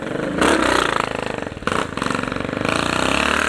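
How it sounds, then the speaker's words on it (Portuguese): A Honda Titan 150 motorcycle with a straight-through exhaust revs hard and close, loud crackling bursts rising and dropping with a staccato popping idle between blips. "com cano direto na 150. Cê é louco, moço. O trem tá fazendo zoeira demais."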